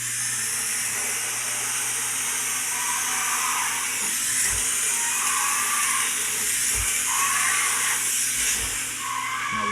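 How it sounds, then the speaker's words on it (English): A steam cleaner hisses steadily while vacuuming and steaming a glass shower door, a continuous loud broadband rush with faint low thumps as the nozzle moves. "we're going to do vacuum and steam only"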